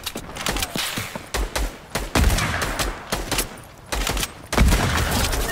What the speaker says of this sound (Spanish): Le ha metido un tiraco.